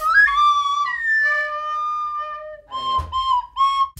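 A plastic recorder plays a few sustained, pure whistly notes, starting with a sliding pitch, then longer held tones and a brief break before short notes to finish, loud and close with no talk.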